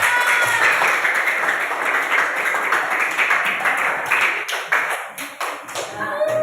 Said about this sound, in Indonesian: Ya, tepuk tangan lagi lebih meriah.